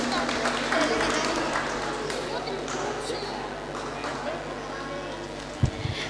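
A crowd applauding steadily, a dense wash of clapping that carries on for the whole stretch with a single louder thump near the end.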